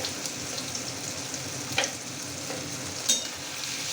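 Turmeric and salt being stirred through dried fish in a frying pan, a soft steady sizzle with a couple of sharp clinks of the utensil.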